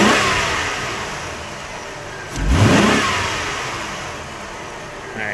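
A 1996 Buick Century's 3.1L V6 with a fuel-related misfire idles, then a single sharp throttle snap brings a quick rev that peaks and falls back to idle, loud and close.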